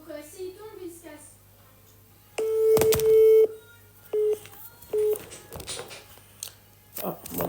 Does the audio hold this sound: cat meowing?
no